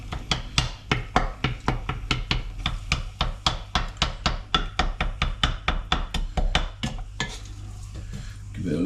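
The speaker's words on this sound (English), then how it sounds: "we'll just break down those plum tomatoes a little" Plum tomatoes being broken down in a pan with a spoon or spatula, a steady run of sharp, regular scraping knocks against the metal over a low sizzle, the strokes stopping near the end.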